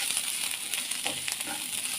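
Crushed chilli frying in oil in a pan for a koorkka (Chinese potato) stir-fry, a continuous close, loud sizzling hiss with small crackles throughout.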